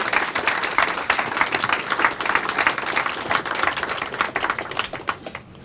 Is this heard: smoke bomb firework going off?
no